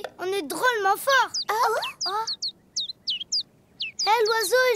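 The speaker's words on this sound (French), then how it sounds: "Hé, l'oiseau, il chante notre chanson." In an animated children's cartoon, short, high chirping bird calls repeat in a quick series during a pause, between stretches of people singing or talking loudly nearby.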